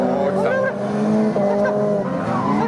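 Tuned Japanese street cars drift through the final corner of a wet mountain pass descent, engines roaring with tire squeal as they sweep past nearby, while a commentator talks over them.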